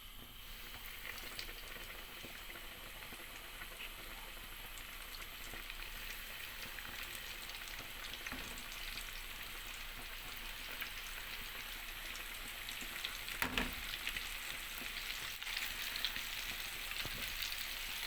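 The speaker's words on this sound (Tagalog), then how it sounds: "Nagluto ako ng fried chicken." Chicken fries in hot oil, giving a steady, dense sizzle and crackle that runs unbroken throughout, with occasional louder pops near the end.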